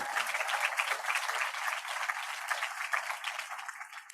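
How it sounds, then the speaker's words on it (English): A closing ceremony audience applauds the parents, a steady wash of many hands clapping at moderate level, even and sustained from start to finish without talk. "Let's give our parents a round of applause."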